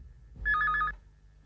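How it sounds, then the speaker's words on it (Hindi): A single electronic telephone ring trills for about half a second, clear and close, surrounded by quiet. "टेलीफोन बजाती।"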